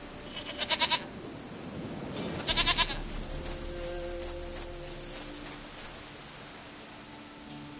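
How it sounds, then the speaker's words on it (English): A goat in The Witcher 3: Wild Hunt bleats twice in loud, quavering bursts close up, followed by a low wind-like drone and faint tonal game ambience. "Goat of mine, dearest, sweetest goat"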